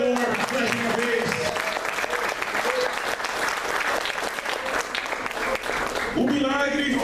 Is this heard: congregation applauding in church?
yes